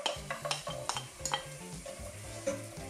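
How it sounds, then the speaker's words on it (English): Celery frying in a small amount of oil and butter in a pan, stirred so that a gentle sizzle runs beneath a series of close scraping and clacking strokes from the spoon, with no speech. "The celery is going to take the longest to cook, so that can go in first."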